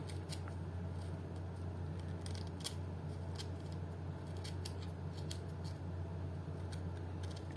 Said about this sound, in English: the cast is relatively soft, so you can just scrape that off